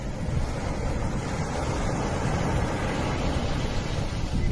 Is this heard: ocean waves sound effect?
yes